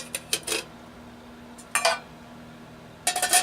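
Metal lid clinking against a homemade tin can cook stove, three separate bursts of sharp metallic clatter with quiet gaps between, close and fairly loud.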